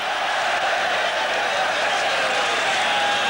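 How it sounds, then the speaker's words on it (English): Napoli supporters cheer steadily in the stadium at a 1988-89 UEFA Cup final against Stuttgart, a loud, continuous crowd roar with no breaks across the whole stretch. "The Napoli fans cheering their every pass."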